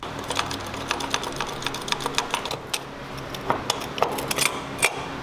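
Metal turbocharger compressor housings are cracked open and handled, giving a series of sharp, irregular clicks, clinks and rattles at close range over a quiet background.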